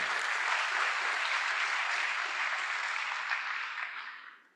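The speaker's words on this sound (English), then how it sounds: "a round of applause for these board members and our GOCSD team" An audience at a school district board event applauds board members, a dense, steady round of clapping that holds for several seconds and then fades out.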